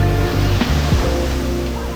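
Ocean waves wash onto a beach shore in Batangas, a loud continuous rushing surf filling the moment, with faint voices mixed under it.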